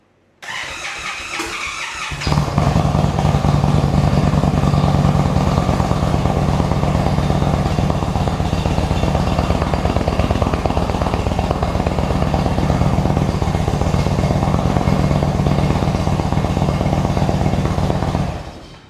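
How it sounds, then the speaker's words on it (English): An Indian Chieftain motorcycle that has sat unstarted for several days cranks briefly before its engine catches, then settles into a loud, steady idle that runs for many seconds before cutting off. "as you can hear, the bike turned over for a couple of seconds before it actually started"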